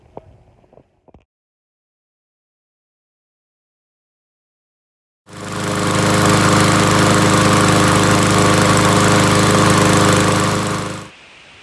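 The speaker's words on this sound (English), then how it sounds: "So as you see from that little video, the mower is running great." Riding lawn mower engine, just repaired with a new blade adapter, starting after a few seconds of near silence and running loud and steady for about six seconds close by, then cutting off abruptly, with no voices.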